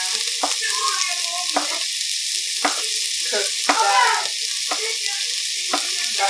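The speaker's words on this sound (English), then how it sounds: "gonna cook the onions until they're basically soft and translucent" Onions cook in a pan until soft and translucent, with a loud, steady close-up sizzle broken by regular scraping stirs roughly every second.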